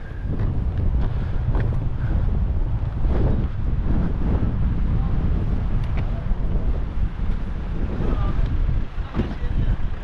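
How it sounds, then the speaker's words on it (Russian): Strong wind roars and buffets the microphone continuously on the climb to Yoros Castle in Istanbul, a heavy low rumble with gusty surges throughout. "Ветер капитальный."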